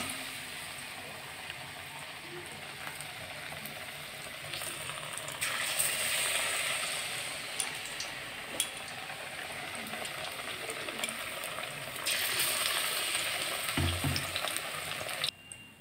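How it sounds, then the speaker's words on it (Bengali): Batter-dipped eggplant fritters made with gram flour fry in hot oil, giving a steady crackling sizzle with occasional scraping stirs and louder bursts as more pieces go in, no talk. "বেগুনগুলোকে সুন্দরভাবে বেসনের মধ্যে চুবিয়ে তেলে ছাড়া"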